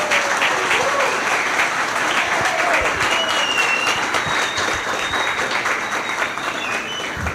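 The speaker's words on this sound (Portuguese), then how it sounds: "uma salva de palmas para vocês." An audience at a national real estate inspection meeting gives sustained applause for the inspectors, with dense continuous clapping that fades slightly near the end.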